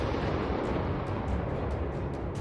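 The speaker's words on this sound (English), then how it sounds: "The drone strikes. The explosion tears through the building." An FPV drone strike explodes against a frontline building, a loud deep roaring blast and rumble filling the whole moment with dense broadband noise and no voices.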